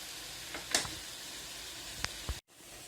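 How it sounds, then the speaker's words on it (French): Paella cooking in a covered pan over medium heat gives a steady, low sizzling hiss, with a few brief clinks and a short sharp pop near the end. "je couvre et je vais laisser cuire quelques minutes comme ça à feu moyen"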